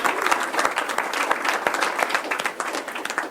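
An audience applauding a graduating high school student, a dense sustained burst of many hands clapping in a hall, fairly loud and steady from start to finish.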